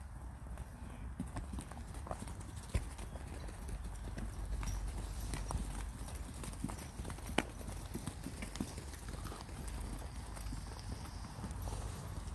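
Hooves of young horses led by a lead horse clip-clopping steadily along at a walk, an even continuous rhythm nearby outdoors over a low rumbling background.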